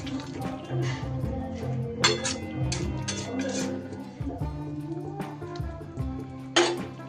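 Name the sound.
mixing fried onion and capsicum in a pan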